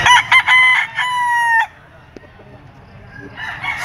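A rooster crows loudly and close by at an outdoor pet market, its harmonic call running about a second and a half before fading into market background noise, with a few short clucks near the start and a faint second call at the end.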